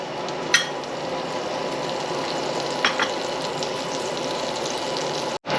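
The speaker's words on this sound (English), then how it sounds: "Butter in the pan," Butter melting in a pan for a bechamel sauce in a lasagna, giving a steady soft crackling sizzle throughout with a few faint utensil knocks and scrapes, and no talk.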